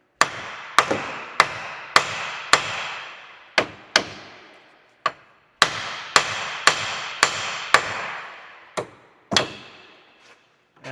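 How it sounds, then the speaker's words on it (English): A steel hammer strikes a jammed tie rod end stud to knock it free of the steering knuckle taper on a Chevy Equinox, with about fifteen sharp ringing metallic blows at a steady pace, close up and alone. "So I'm just gonna hit this a couple times with this hammer."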